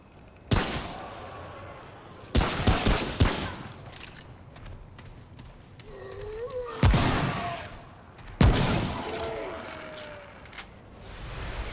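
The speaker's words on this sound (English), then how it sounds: "Trying to see if we draw any others from the sound of our gunfire." Gunfire in the PC video game Remnant: From the Ashes, several sharp, loud shots and short bursts spread out over time, each with a booming tail, mixed with faint in-game effects.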